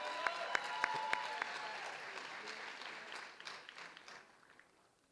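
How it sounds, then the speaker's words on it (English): Audience applause rings out at a medical school graduate medical education graduation ceremony, a dense patter of many hands with a few sharp near claps early on, holding steady before gradually thinning and fading out by the end. "Give another round of applause."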